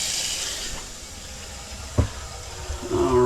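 A newly installed kitchen faucet runs hot and cold water in a steady, strong hissing stream, with a brief clunk partway through and a rising tonal squeal near the end.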